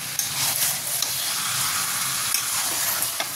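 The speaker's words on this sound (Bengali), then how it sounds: "মশলাটাকে আবার কষাতে লাগবে। শুধু কষিয়ে নেবো, এতে জলও ব্যবহার করবো না।" Spice paste fries in a pan with sugar added and no water, giving a steady close sizzle and hiss, with occasional soft scrapes and stirs.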